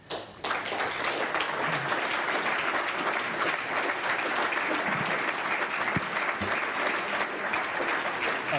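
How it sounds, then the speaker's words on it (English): Audience at a National Press Club address by Prime Minister Anthony Albanese bursts into sustained applause, dense and steady clapping from a sizable room that continues throughout without a break. "Applause, I'm sure,"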